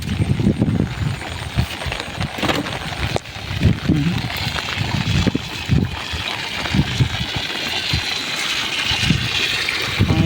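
Monsoon floodwater rushes through a village in a loud, steady wash of gushing water. The noise fills the scene, with low rumbling surges and occasional splashes throughout.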